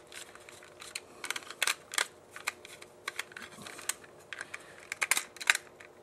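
Small parts of an SCX digital slot car being screwed back together by hand, heard as close, irregular light clicks and taps of plastic and metal, with no talking.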